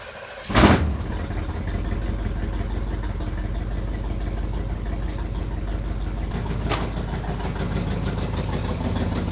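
A 350 small-block Chevy in a 1964 Impala cranks and catches with a sharp burst, then settles into a steady, close, even idle that runs on with a brief blip partway through.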